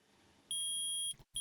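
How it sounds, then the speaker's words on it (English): A video-game metal detector in Phoenix Wright: Ace Attorney Trilogy gives one long, loud, steady electronic beep, cuts off, then starts a second beep. "I permit the use of the metal detector."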